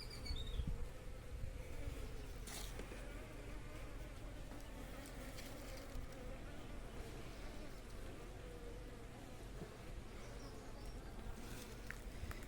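Honeybees drone in a steady, dense buzz as frames are lifted from a hive box, the swarm close and continuous with a few brief knocks of handling, and no voices.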